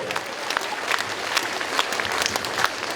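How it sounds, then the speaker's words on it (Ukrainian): An audience at a Ukrainian comedy and humoresque show breaks into lively applause, a dense patter of many clapping hands with sharper individual claps popping out, close and continuous throughout. "Оплески!"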